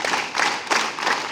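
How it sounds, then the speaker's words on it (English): Students at a school morning assembly clap together in unison, about three or four sharp group claps at an even pace, with no talk. "Inside, hands up, clap together."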